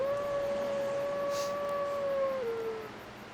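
A dog in Dark Souls Remastered, in the ruins of New Londo, lets out one long sustained howl that holds steady, then dips and fades, loud and clear over a dull background rumble.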